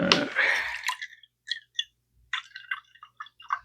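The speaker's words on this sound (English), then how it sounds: "And then I'm going to add 125 water." Water added to a chemical mixture for a traffic light reaction experiment starts with a close, splashy pour, then breaks into a scatter of small, quiet drips and trickles with gaps of silence between them.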